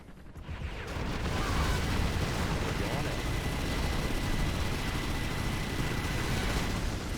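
Rocket pods fire in C&C Generals Zero Hour with the ShockWave mod, a dense, continuous roar of rocket launches and explosions rumbling steadily for several seconds with no let-up.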